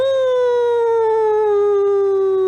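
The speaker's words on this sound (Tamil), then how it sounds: "தூரத்துல ஒரு நாய்" A single distant dog howl holds one long wavering note that slowly sinks in pitch, clear and sustained.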